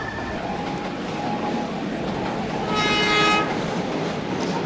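An NJ Transit train rumbles past in the Trainz simulator game near Newark International Airport station, a steady rolling drone, a brief horn-like tone rising in the middle.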